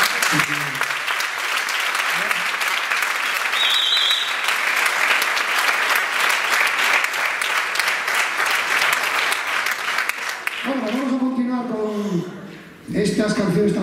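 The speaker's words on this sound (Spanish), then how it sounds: "quiero que le deis un fuerte aplauso a los dos." Sustained, loud applause at a Christmas concert by the Falces municipal band runs for about ten seconds, then gives way to a voice speaking over quieter sound.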